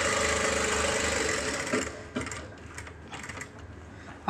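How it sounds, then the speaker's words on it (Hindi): A sewing machine stitches down the center of a neckline, running steadily and close for the first two seconds, then slowing into shorter, uneven bursts of stitching with small pauses. "फ्रेंड्स हम इसके बीच सेंटर में नीचे तक सिलाई लगा लेते हैं।"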